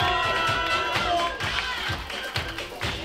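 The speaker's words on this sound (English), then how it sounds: "Give the legend a round of applause" An audience at a ball claps and cheers in a quick burst of applause, with sharp overlapping claps and some crowd noise coming in close, loud waves.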